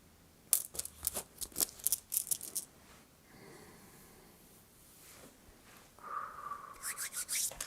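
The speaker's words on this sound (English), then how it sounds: "Now rubbing you with that gem bag." A bag of gemstones is rubbed over skin in a close, quiet ASMR facial treatment, giving soft scratchy rubbing strokes mixed with light clicks and clinks of the stones shifting inside the bag.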